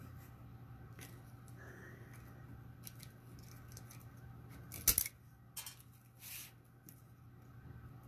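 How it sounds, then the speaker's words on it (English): Scissors snip through plastic zip ties while a wreath is assembled, giving a short cluster of sharp, close clicks and cuts over a steady low background hum, with a few lighter rustles afterward. "So now I'm just going to cut the zip ties."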